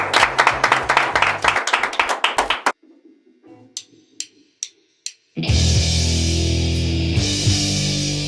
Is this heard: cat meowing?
no